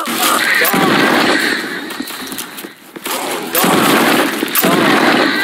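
A gun in a zombie first-person shooter video game fires in loud, dense bursts with heavy thuds, dropping into a brief lull before the firing resumes.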